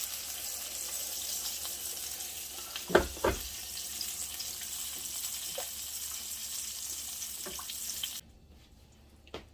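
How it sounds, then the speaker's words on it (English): Water added to a hot pan of stuffed chicken bursts into sizzling and frying, with a couple of sharp clatters early on, then a steady hiss that cuts off abruptly near the end. "we're just going to add a little water to this"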